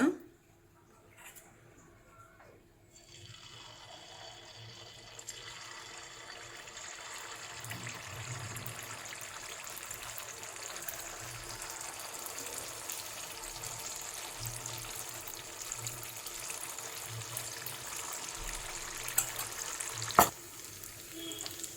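Unni appam batter frying in hot oil, a steady close sizzle and bubbling crackle that builds after a quiet start and continues throughout, with a brief sharp clatter near the end.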